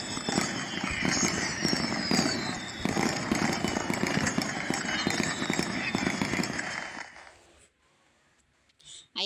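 Dense fireworks sound effect in a livestream app crackles and pops continuously for several seconds, then abruptly fades to near silence, with a voice faintly underneath.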